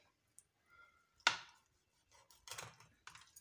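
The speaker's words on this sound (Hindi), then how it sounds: "फ़िश पर मसाला लगाने से पहले हम फ़िश के ऊपर कट लगाएंगे" A knife scoring cuts into a fish before masala goes on, a handful of sparse, quiet cutting strokes in near silence, one sharper than the rest.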